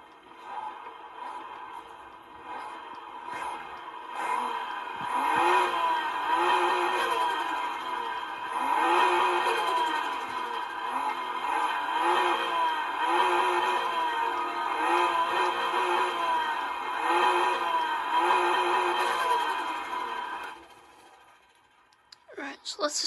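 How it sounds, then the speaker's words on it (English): A stock Nissan R32 Skyline engine in Need for Speed Heat revs repeatedly in rising and falling surges, a buzzy synthetic drone that cuts off abruptly near the end. "Yes, this is a stock engine as well."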